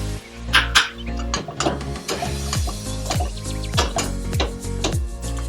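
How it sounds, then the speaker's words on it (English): Potato stuffing seasoned with coriander powder, garam masala, mango powder and salt is stirred in a sizzling pan, a spoon scraping and clinking against the metal in repeated strokes over steady frying hiss, close by with no talk. "Now mix it well"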